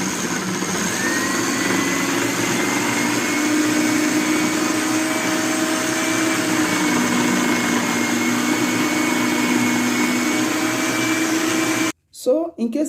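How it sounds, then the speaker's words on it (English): A food processor runs with its slicer blade, cutting soggy overripe plantains, giving a loud steady motor whine with a droning hum for about twelve seconds before it stops abruptly, followed by a few faint handling noises. "another option is to slice them in your food processor"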